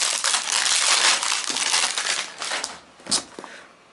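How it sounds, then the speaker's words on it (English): Sealed hard plastic packaging for a Nokia XL phone is pried and broken open, giving close, loud crinkling and crunching that thins out toward the end into a few sharp cracks. "it is still sealed pack. So let's open it. It's a very weird kind of hard plastic in which it comes."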